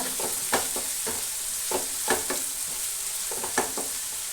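Chicken roast with capsicum sautés in a pan, a steady sizzle punctuated by several sharp spatula scrapes and stirring knocks at irregular intervals, close up with no talking.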